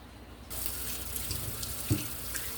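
Tap water starts running into a sink and keeps up a steady, close rush while carrots are washed, with a small bump of handling partway through and no talking.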